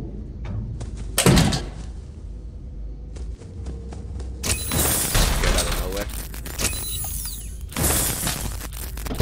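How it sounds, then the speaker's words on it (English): A door slams shut in a FNAF fangame, a sharp broadband bang among several loud mechanical clunks and bursts, with a voice talking over the game noise. "Door!"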